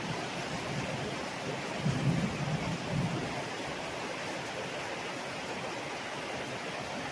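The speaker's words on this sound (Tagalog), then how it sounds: "kumukulog-kulog pa siya, kumikidlat" Heavy rain pouring steadily on a rainy afternoon, with a low rumble of thunder rolling briefly near the start.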